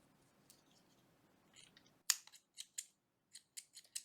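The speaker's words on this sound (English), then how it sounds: "So I'm going to cut this yarn, leave some length, and cut it and leave it like that." Scissors snip through knitting yarn: a soft rustle, then a sharp close cut followed by several quick, crisp metallic snips and clicks in a quiet room.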